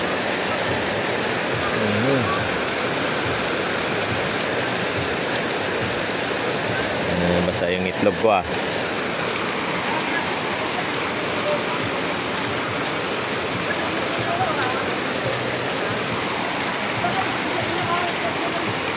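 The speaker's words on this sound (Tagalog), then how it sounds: "Lakas ng ulan na yan, no?" Heavy rain pours down on a vegetable garden in a loud, constant roar; a person speaks briefly under it, with a short clattering rustle midway.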